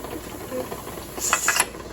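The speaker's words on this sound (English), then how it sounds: "All right, so we got pressure. And you can't see it, but it's steaming." A pressure canner vents steam as a soft hiss with a few brighter, louder hissing bursts toward the end, close by and without speech.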